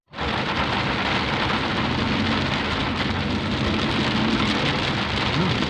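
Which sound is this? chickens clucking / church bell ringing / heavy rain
heavy rain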